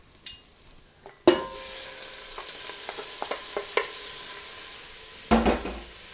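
Shrimp dropped into a hot pan for a cream and caper pasta, a sudden hissing sizzle followed by a run of light utensil clinks and taps, then another burst of sizzling, close by.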